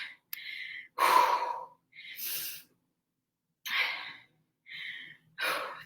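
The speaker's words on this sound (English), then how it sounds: "We are breathing." Heavy, forceful breaths during a Tabata workout, a series of loud, close exhales and gasps in uneven bursts separated by short silences, with no talking.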